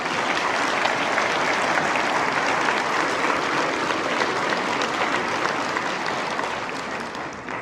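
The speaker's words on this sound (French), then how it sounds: "Donc, une bonne main d'applaudissements pour notre table d'honneur." Sustained audience applause at an agriculture hall of fame ceremony in Quebec, many hands clapping steadily and loudly for the head table, holding for several seconds before easing slightly at the end.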